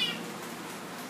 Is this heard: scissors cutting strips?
no